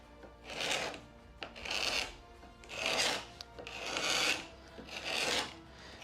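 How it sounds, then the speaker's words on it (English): A scraper rasps old paint off a door in five slow, even strokes, each a close, gritty scrape with short pauses between. "First with the scraper."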